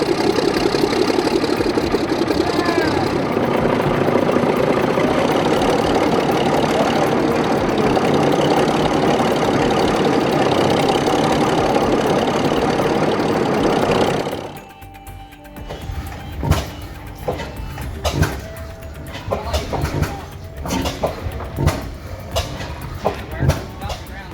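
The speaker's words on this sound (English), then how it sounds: "This 1955 John Fowler locomotive, powered by a two-cylinder naturally aspirated diesel hydraulic engine, finally roared again." A 1955 John Fowler locomotive's two-cylinder naturally aspirated diesel hydraulic engine runs with a steady, dense, close roar, then cuts off, leaving quieter scattered clanks and knocks.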